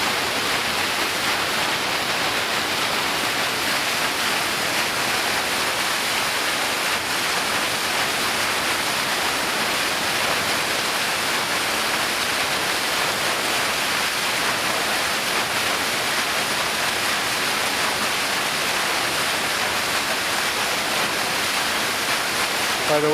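River water rushing steadily through a flow-test facility in Logan, Utah, at about 22 feet per second, a loud, continuous broadband roar like a waterfall that holds unchanged from start to finish with no talk over it.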